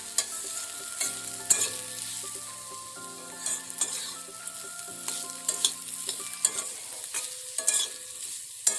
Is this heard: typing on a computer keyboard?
no